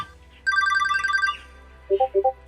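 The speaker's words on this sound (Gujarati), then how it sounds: "હા જો ફોન એ આવ્યો" A mobile phone ringtone plays a bright repeating electronic melody for about a second over low background hum, followed by a short two-part rising chime pattern, in a Gujarati Holi comedy scene.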